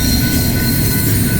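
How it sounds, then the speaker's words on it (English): BNSF intermodal freight cars rolling past in Colorado Springs, a loud steady rumble of wheels on rail with a high metallic squeal running through it, close by and continuous, with no talking. "I don't know how you can watch just these cars go by."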